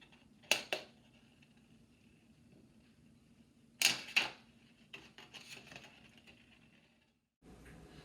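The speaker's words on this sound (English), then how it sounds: "Now I'm going to use a scissors, and I'm going to cut away the plastic that I do not need." Scissors snip away excess shrink plastic around a printed image in two sharp double clicks, then a few softer cuts and handling rustles close by in a quiet room.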